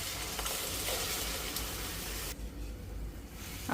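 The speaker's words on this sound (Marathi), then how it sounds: "आता आपण यामध्ये दूध ॲड करूया।" Fried carrots for gajar halwa sizzle loudly in a pan, then the sizzle suddenly drops and softens as milk is poured in.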